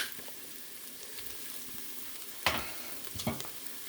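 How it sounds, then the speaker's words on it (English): Smoked paella sizzles quietly on a griddle, a soft steady fry punctuated by a couple of sharp scraping stirs near the end. "Give that a stir"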